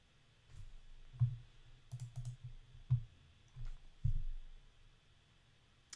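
Keys clatter on a computer keyboard in short, uneven bursts with a few sharper clicks, fairly quiet and close, with no voices.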